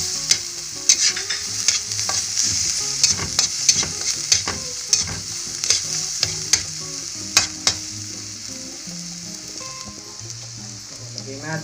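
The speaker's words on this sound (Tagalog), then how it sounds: "So ito yung gagamitin natin na pagprito, yung butter. So lagay natin yung garlic natin." Garlic fries in melted butter in a pan, giving a steady close sizzle broken by frequent sharp clicks of a utensil stirring and scraping the pan.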